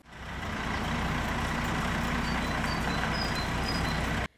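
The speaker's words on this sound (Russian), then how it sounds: "Эта большая фура с гуманитарной помощью прибыла уже в Третью республику Северного Кавказа." Large semi-trailer truck carrying humanitarian aid, a loud continuous diesel rumble and road noise that swells in over the first half second, holds steady, then cuts off abruptly.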